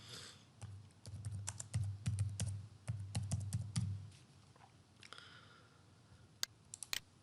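Someone types a CNIC number and password on a computer keyboard, a quick run of close, crisp key clicks with a dull thump under them, then a pause and a few scattered clicks.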